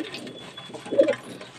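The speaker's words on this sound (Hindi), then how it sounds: "देखिए दोस्तों कितने सारे कबूतर हैं हमारे पास।" Pigeons in a home loft coo softly, with one fuller coo standing out near the end over a low background murmur.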